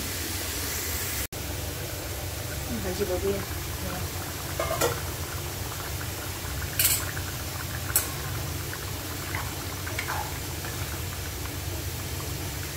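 Mung bean sprouts boiling in a pot of water make a soft, steady bubbling hiss with a few faint clinks over a continuous low rumble.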